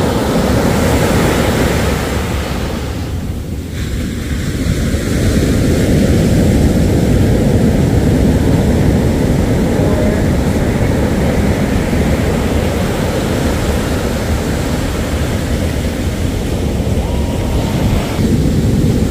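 Strong surf pounds the shore at Hampton Beach, a steady roar of heavy waves that swells and holds loud and close throughout with no voices over it.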